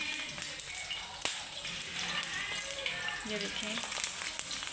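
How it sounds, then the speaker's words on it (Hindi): Chicken shami kabab patties fry in hot oil in a pan, giving a steady close sizzle with small pops and crackles throughout, while a voice speaks briefly over it. "मैंने टिक्कियाँ बना ली हैं, अब हम इनको फ्राई करते हैं।"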